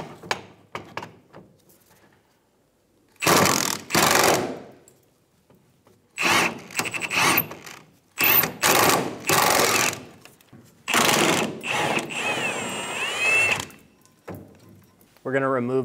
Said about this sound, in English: Using a 14mm socket, we're going to remove the bolts for the fuel tank straps.